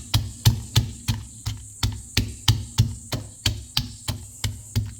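Whole tomatoes and garlic cloves are lightly pounded, giving a run of sharp, evenly spaced thuds, about two or three each second, close and clear with no talking.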